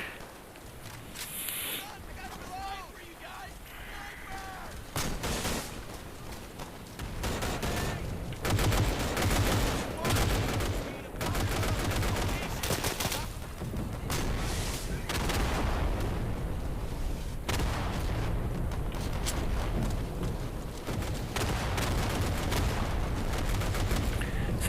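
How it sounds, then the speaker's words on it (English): Gunfire and explosions crackle through a WWII battle in the Day of Infamy game, dense bursts of rifle and machine-gun fire with heavy blasts rolling through, growing louder after the first few seconds, while a player talks over it. "Is that another Stuka, or am I hallucinating? Or am I just hearing things over, like, you know, all these explosions?"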